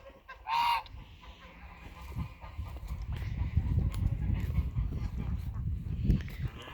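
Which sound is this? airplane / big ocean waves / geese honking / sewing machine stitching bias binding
geese honking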